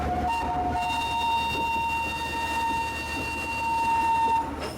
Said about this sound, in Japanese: 汽笛も鳴り、雰囲気が盛り上がります。